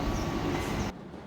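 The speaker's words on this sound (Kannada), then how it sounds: "ಈಗ ಅಲ್ಲಿ ಆ ಟ್ರೈನ್ ಬರುತ್ತೆ" A small tourist train rolling along the Death Railway in Kanchanaburi, a broad, steady rumble of wheels and carriages close by that cuts off abruptly after about a second, with no voices.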